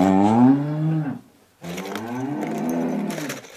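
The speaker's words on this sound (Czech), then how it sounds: "A bučí nějak moc ta žovka." A farm cow, a heifer upset by pens being rebuilt for pigs, lets out two long, loud, close moos separated by a short pause.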